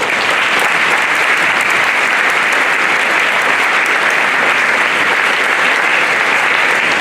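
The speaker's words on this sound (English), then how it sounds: "Get a round of applause for them" Loud, dense applause from a school assembly audience at a Veterans Day event, steady and sustained throughout without pause, filling the room.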